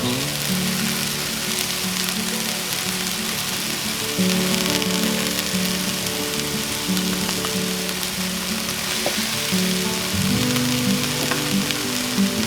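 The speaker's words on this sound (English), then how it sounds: "I'm going to let that go for a couple minutes, toast the spices a little bit." Ground coriander and cumin toast in a hot pan, giving a steady, close sizzle and crackle that holds at an even level throughout with no talking.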